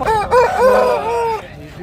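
A rooster crows loudly and close by at a rooster market in Gudur, one full drawn-out call with rising and falling harmonic notes, with faint background noise.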